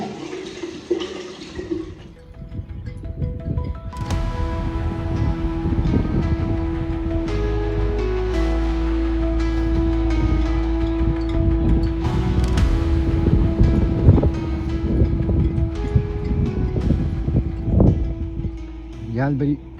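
Rough sea while sailing, with a continuous rushing wash of waves and wind around the boat and a low steady hum beneath. Voices talk over it throughout.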